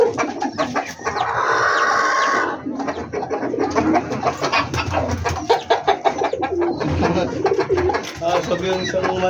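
Chickens in a coop clucking and squawking close by in a busy, overlapping flock, with a loud burst of cackling early on, birds shuffling about, and people talking over them.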